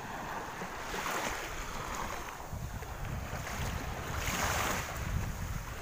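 Clear sea waves wash onto Tarukan Beach in Barangay Laurinti, a steady rushing surf that swells and recedes, heard close up with wind buffeting the microphone and no talking.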